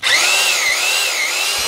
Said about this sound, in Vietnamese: khoan không nè ha